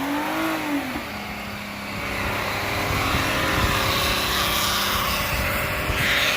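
A stunt Mazda MPV revs hard in a smoky burnout with a worn-out transmission, its loud engine droning continuously at high revs alongside broadband tire-spin roar throughout.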